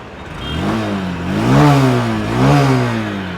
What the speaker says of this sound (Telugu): ఇప్పుడైతే ఈ వెహికల్ యొక్క ఎగ్జాస్ట్ నోట్ అయితే ఒకసారి విందాం